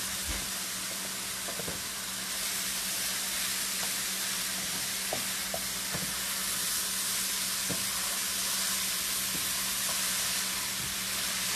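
Onions and cooked meat fry in a pan with a loud, steady sizzle throughout, broken by occasional scrapes and taps from stirring.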